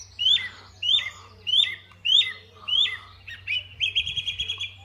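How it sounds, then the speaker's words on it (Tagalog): A garden bird sings close by in an English country garden, five repeated rising chirping phrases followed by a quicker trilling run, clear and alone over a low steady hum. "I like the bird singing over me"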